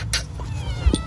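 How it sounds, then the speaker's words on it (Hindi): A pet cat meowing indoors, two short close-up meows with a brief soft chirp between them over a low background rumble, no speech. "देखो म्याऊं में वैसे करती है ये"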